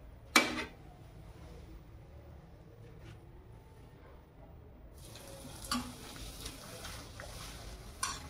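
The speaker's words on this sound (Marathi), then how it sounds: "जास्त गरम तेल करायचं नाही, टाकायचे पापड आणि लगेच त्याला असं पलटी करायचं." Potato fasting papad frying briefly in moderately hot oil, a soft steady sizzle with a few sharp clinks and taps as pieces are dropped in and flipped, close and fairly quiet with no talking.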